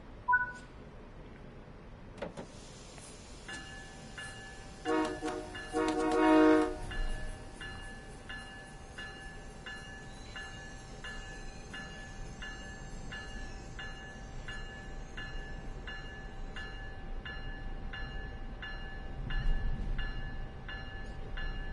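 A train in a simulator game rolls along with a steady mechanical hum and repeating rhythmic clicks, with a few electronic tones and horn-like blips early on, moderately quiet and without talk.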